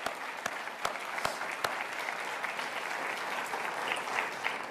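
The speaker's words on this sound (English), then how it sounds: "Can we just have one more round of applause for all of our family members that came out today?" Audience applause after a call for another round for family members at a Vietnam War government briefing, a steady dense clapping from a large crowd with a few sharp claps standing out, sustained throughout without talk.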